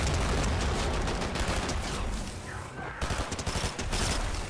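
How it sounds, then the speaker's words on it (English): SMG gunfire in Fortnite rattles almost continuously in a dense, loud stream of rapid shots, with a brief lull partway through before the firing resumes. "This SMG just tears."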